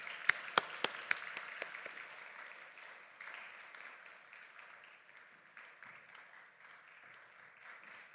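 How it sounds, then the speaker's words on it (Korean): A church congregation at a Friday evening prayer meeting in Daegu claps for a member coming forward. A few sharp, loud claps open, then softer, quieter scattered applause trails on in a faint room. "우리 나오실 때까지 박수 쳐드려야 될 것 같아요."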